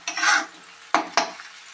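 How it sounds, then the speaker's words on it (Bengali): Green peas are stirred in a hot pan, giving a short sizzling sweep followed by two quick scraping strokes, close and clear, with no speech. "মটরশুঁটিটা আমরা বেশি ফ্রাই করব না, অল্প করে ফ্রাই করব"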